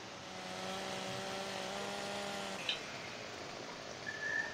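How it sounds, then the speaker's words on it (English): Old chainsaw running in Farming Simulator, heard as a steady, droning engine whine held throughout at moderate level, with a faint click and rising buzz near the end. "I still got this chainsaw since the beginning of the farm, almost. Sucker still runs good."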